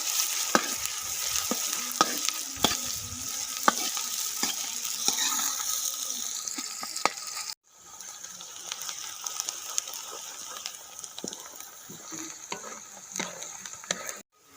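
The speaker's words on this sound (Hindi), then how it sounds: "इसमें हम प्याज शामिल करेंगे ऐसे, और प्याज को हल्का ब्राउन करेंगे" Onions frying and being stirred in hot ghee, a steady close sizzle with frequent scraping and clinking of the spoon against the pan, with a brief drop in the middle before the sizzle resumes.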